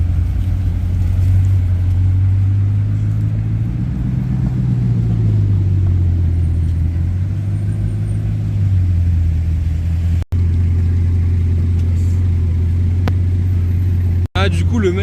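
A Bugatti Chiron supercar on a street in Cannes gives off a loud, continuous low engine rumble that swells and eases as it moves, heard close up.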